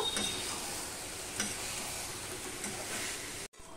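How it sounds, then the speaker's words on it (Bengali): Potato curry stirred and sautéed in a pan, a soft continuous sizzle with faint scraping strokes of a spoon, fairly quiet, ending with a brief cutout near the end. "এবার আলুর সাথে মিশিয়ে নিয়ে আমি আরো একটু কষিয়ে নেব।"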